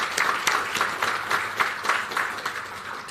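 A crowd applauds students receiving subject merits at a school merit ceremony, steady full-room clapping with no voices, continuing at an even level throughout.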